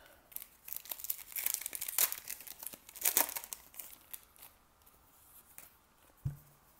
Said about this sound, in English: Oh, these packs are so hard to rip off.